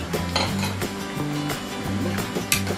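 Udon noodles being added and stirred in a pan with thin-sliced pork belly, giving repeated clinks and scrapes of a utensil against the pan over a soft sizzle, close and moderately loud.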